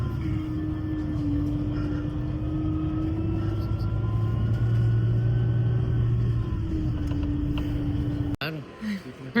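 Airport ambience with a steady low rumble of aircraft engines and a sustained tonal hum, loud and continuous for about eight seconds before cutting abruptly to quieter room sound.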